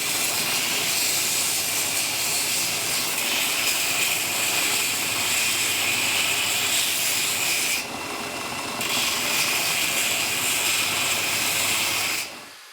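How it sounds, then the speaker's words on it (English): Steady, loud grinding and sanding on a forged dagger made from chain steel, removing the oxidized scale left by heat treatment; the abrasive hiss runs continuously with one brief drop in intensity before resuming, with no talk. "The metal is grinded and sanded down to remove the oxidized layer from the heat treatment."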